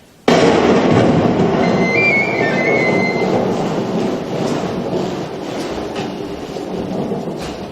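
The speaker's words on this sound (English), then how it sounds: "It is midnight, and the thunder still trembles in the sky." A thunder sound effect in an audio drama breaks in suddenly as a loud crack, then rolls on as a long, rumbling roar that slowly fades and swells again, with no voices over it.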